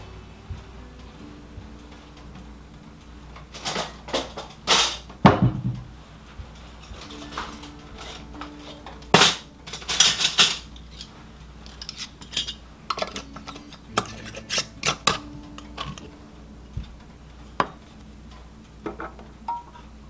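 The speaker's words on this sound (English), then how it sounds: "And then put on the lids." Metal canning lids clink down onto glass jars of sliced apples in a home kitchen. Irregular close taps and rattles come in bursts, with a few louder clanks, across a quiet background.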